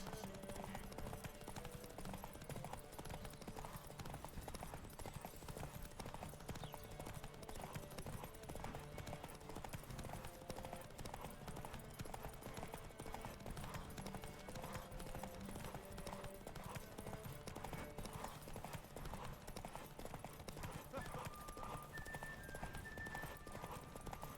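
Hoofbeats of a horse in The Witcher 3: Wild Hunt, a steady clip-clop rhythm running throughout amid dense game music and ambience, with a brief whinny possible.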